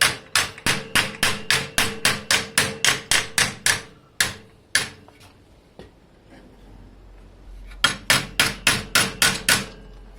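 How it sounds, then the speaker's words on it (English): Rapid, sharp hammer blows ring out in quick bursts, flattening the edge of a metal body panel on a Triumph TR7, pausing briefly before another fast run of strikes. "Now I can hammer the edge flat without messing up the curves."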